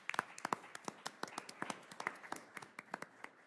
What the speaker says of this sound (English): round of applause as well.